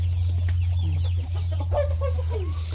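Rhode Island chickens cluck and chatter close by in a farmyard in short, uneven bursts over a steady low hum.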